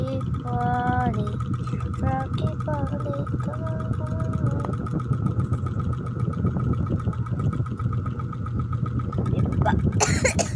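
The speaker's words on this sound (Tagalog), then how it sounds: "Sorry na kasi maingay kasi yung electric fan." A noisy electric fan runs indoors with a constant, close hum and whir, while a person talks over it and coughs.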